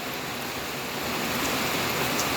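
Steady rain falling over a rural garden home beside a pond, a dense, even hiss that holds constant and fairly loud throughout with no voices.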